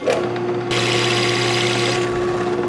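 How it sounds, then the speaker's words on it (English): A drill press with a Forstner bit whines steadily as it bores into wood, the motor tone holding loud and constant with a grinding bite in the middle. "All right, so using my drill press here,"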